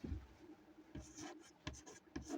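Chalk or a marker scratches across a classroom board as a definition is written, faint irregular strokes and taps in short bursts, alone with no talk.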